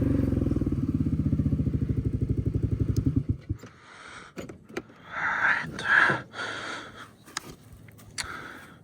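A 500 or 700 off-road motorcycle engine revving at wide open throttle, giving a loud, rapid pulsing drone for about three seconds that then cuts off, followed by clatter and rustling noises.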